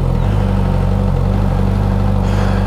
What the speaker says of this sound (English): the familiar thrum of an inline four engine